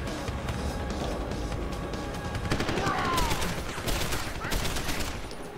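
Automated turrets open fire during a firefight in Deus Ex: Human Revolution, with rapid sustained gunfire bursts over a dense, noisy game mix that builds toward the middle and keeps rattling to the end.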